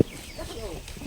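Chickens cluck softly nearby in a brief burst of short, scattered calls.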